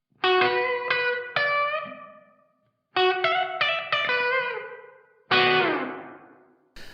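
Electric guitar chords strummed in three short bursts with a slightly gritty overdrive tone, each ringing out and fading before the next.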